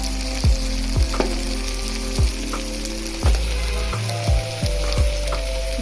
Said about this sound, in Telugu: కారం వేసాం కదా, కొంచెం దీన్ని కూడా ఉడకనిస్తాము ఈ టమాటా గుజ్జులో